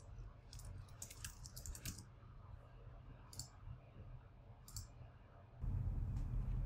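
Computer keyboard typing while entering an email address to assign a task, with quick bursts of light key clicks in short runs separated by pauses over a low background hum.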